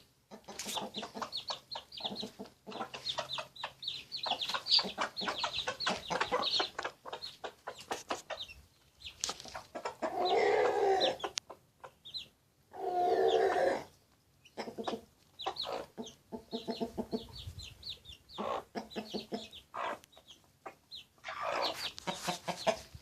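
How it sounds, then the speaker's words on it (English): Free-range chickens cluck and chatter while eating, with repeated short clucks and a few longer drawn-out calls from the flock, close and fairly loud throughout, with no one talking. "The mother chickens will share with their babies, but the other chickens will snatch the food away."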